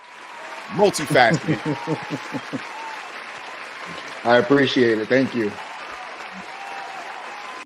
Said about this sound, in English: Give you the applause